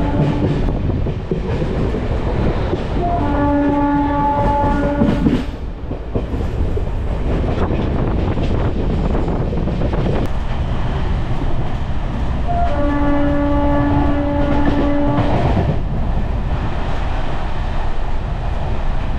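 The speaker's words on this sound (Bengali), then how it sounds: "ছেড়ে দিল আমাদের ট্রেন" The Santragachi–Jhargram MEMU electric train rumbles steadily as it runs, with two sustained horn blasts sounding from the train a few seconds apart over the continuous rolling noise.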